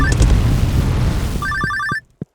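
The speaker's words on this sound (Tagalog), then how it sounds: "Eh, telepono na naman" Telephone ringing in the farming game Stardew Valley, a rapid electronic trill of repeated bright beeps over busy game background sound, stopping abruptly with a final soft click.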